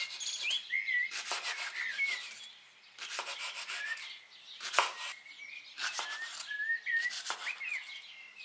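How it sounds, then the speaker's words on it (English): A knife chops spinach on a cutting board in a home kitchen, with roughly six bursts of rapid, close scraping strokes separated by short pauses. "While I chop the spinach"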